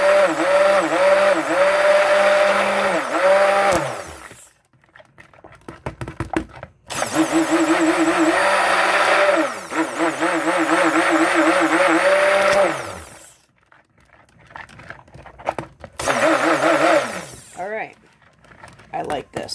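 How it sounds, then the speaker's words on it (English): A stick blender whines loudly in long bursts while mixing soap, stopping and starting several times, its pitch wavering as it churns. "Always make sure you burp your stick blender."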